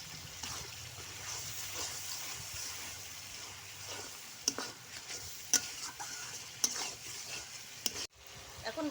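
Dried fish is stirred into spices frying in a pan, with a steady sizzle under a run of scraping utensil strokes and a few sharp clicks toward the end.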